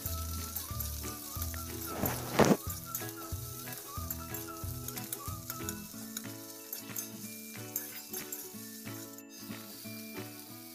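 Chopped onion fries with bay leaf, cinnamon, cloves and cardamom, a close crackling sizzle running throughout with occasional stirring knocks, while music plays underneath.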